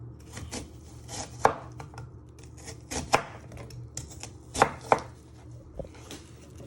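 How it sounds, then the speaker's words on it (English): A knife chops chicken curry pie ingredients on a board in a kitchen, irregular thuds in small clusters, fairly close and moderately loud over faint background hum. "you're just going to chop them into pieces"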